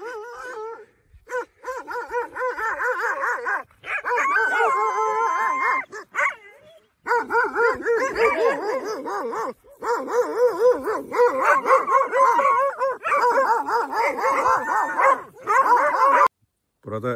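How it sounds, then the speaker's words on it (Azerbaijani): Several dogs bark aggressively and continuously near an outdoor hillside location in Qazax, Azerbaijan, as they rush at a film crew, with loud overlapping barks, yips and whimpers close to the microphone. "Burada çəkiliş zamanı üstümüzə itlər hücum çəkdi."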